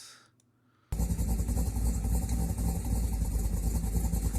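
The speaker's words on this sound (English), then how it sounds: "See, that has cam work done to it, but that thing still sounds nasty." A car engine with cam work runs with a choppy, lumpy idle, loud and continuous after a brief quiet opening, alone without talk.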